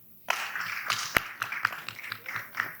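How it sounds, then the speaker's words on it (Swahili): Applause from the audience at a by-election political debate in Msambweni: scattered clapping starts abruptly and carries on, moderately close, with uneven hand claps and no talk over it. "Naomba tafadhali tuwapigieni makofi."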